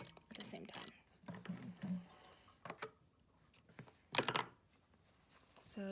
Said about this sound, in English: I'm gonna sew close to the edge on the binding